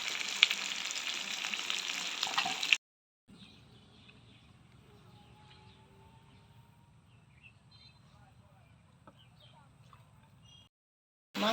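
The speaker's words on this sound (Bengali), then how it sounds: "মুরগি তো মাংস একটু ভালো করে কষাই নিতে হবে" Chicken meat sautés in hot oil in a pan for a thin potato curry, a loud sizzle at first, then a softer steady frying crackle, with faint bird chirps in the background.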